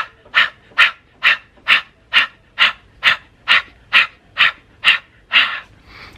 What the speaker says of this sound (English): You do the fire breath.